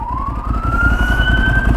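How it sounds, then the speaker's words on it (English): A police siren wails steadily behind a motorcycle in London, its pitch slowly rising, with loud road and engine rumble underneath throughout. "hear a police or a siren of some description behind you"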